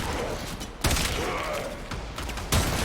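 Two sharp, loud sniper rifle shots ring out in a video game, about a second and a half apart, over a busy background of game noise.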